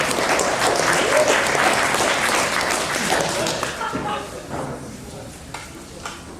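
Applause breaks out at a tech hackathon event, thanking the hosts and sponsors. Dense clapping starts strong, then thins and fades over the last few seconds, leaving scattered claps and a faint voice.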